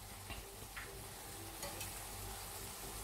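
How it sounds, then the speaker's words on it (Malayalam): Quiet, steady sizzle of eggs being added to a Kerala-style egg roast masala in a pan, a faint continuous frying crackle with a few soft clicks and no speech. "ഇതിലേക്ക് നമ്മുടെ മുട്ട നമുക്ക് ചേർത്ത് കൊടുക്കാം."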